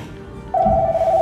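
A telephone starts ringing halfway through, a steady electronic tone standing out clearly over faint room background.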